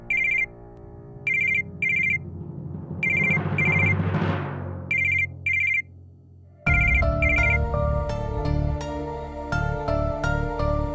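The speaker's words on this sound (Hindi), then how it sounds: "इतनी रात को किसका फोन है बेटा?" An electronic telephone ringtone repeats in short bursts late at night, a swelling dramatic music cue rising beneath it before the music takes over loudly alongside further rings.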